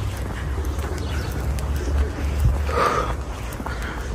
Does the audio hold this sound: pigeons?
yes